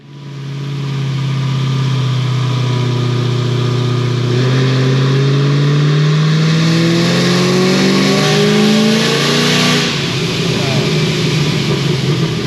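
Procharger-supercharged car engine on a dyno, revving steadily upward through a pull with rising pitch, loud and continuous, then easing off near the end; faint voices underneath.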